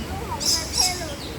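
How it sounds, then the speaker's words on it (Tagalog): Birds in a Hong Kong botanical garden park aviary give two quick bright chirps close by, with softer tweets around them over low ambient murmur. "So, maraming ibon dito."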